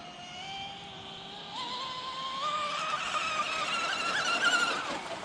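A Zippkits JAE 33FE fast rigger RC boat runs on the water, its small engine whining higher and louder as it speeds up, with a steady rising note over a soft background.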